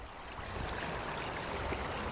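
Stream water flows softly and steadily at a village washing place, a faint, continuous burble with no voices.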